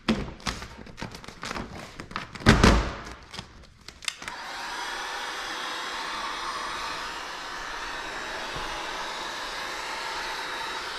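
A heat gun heats vinyl car wrap, blowing a steady, even whoosh that starts abruptly after a few seconds of thumps and handling noises and then continues unbroken at close range.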